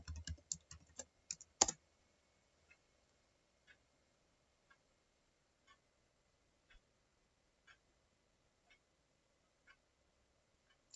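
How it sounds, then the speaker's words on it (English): A password is typed on a computer keyboard in a quick, close burst of clicking keystrokes, followed by near silence broken only by faint, evenly spaced ticks about once a second. "Let me enter the password."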